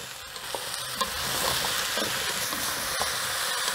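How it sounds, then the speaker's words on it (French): Red kuri squash stirred in a pot with garlic and ginger, frying for a velouté. It gives a steady close sizzle with soft scraping stir sounds throughout. "Et on mélange."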